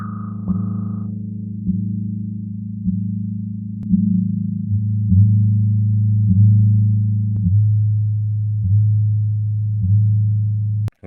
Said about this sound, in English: I'm gonna make an 808 or some kind of a bass.